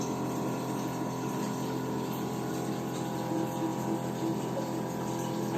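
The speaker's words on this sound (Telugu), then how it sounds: "కెంగన్ వాటర్ ప్రాసెస్ చేస్తున్నాము" A Kangen water ionizer machine dispenses 9.5 pH water in a steady, continuous pour with a low pump hum underneath, close and even throughout with no talking.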